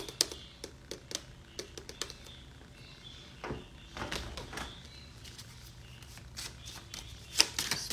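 Tarot cards shuffled by hand, a run of soft, quick riffling taps and flicks, close and fairly quiet, in a room with a little background noise.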